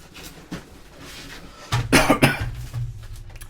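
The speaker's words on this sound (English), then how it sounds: "Sorry about my cough." A person coughs several times in a rough, bursting cluster, loud and close, followed by a throat-clearing rumble, with no talk over it.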